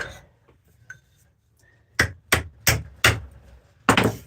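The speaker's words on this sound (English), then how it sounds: "I love my Jesus hammer" Five sharp, loud hammer strikes on metal ring out in a steady rhythm at a forge during spoon making, after a near-silent stretch with faint clinks.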